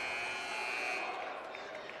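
A long, steady game-clock buzzer sounds at halftime of a men's college basketball game in an arena, blaring for about a second before the crowd noise rises and carries on underneath.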